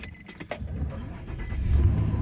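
A Nissan Frontier pickup truck engine cranks and catches, a few clicks first, then a low rumble building into a steady idle close by.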